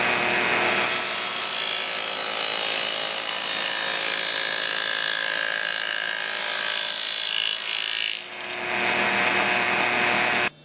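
Dado blade on a table saw cutting a test strip through a scrap wood board: a loud, steady high-pitched cutting whine for about seven seconds, dipping briefly, then the blade spinning on before stopping abruptly.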